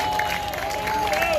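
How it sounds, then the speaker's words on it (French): A crowd at a graduation claps in a brief, dense burst of applause, with a thin steady tone running underneath. "Et encore applaudissez-la."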